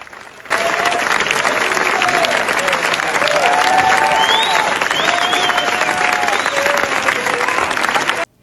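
A Cannes film festival audience gives a film a standing ovation, with loud, dense, continuous applause, scattered cheers and whoops over the steady clapping, starting abruptly and holding strong until it cuts off.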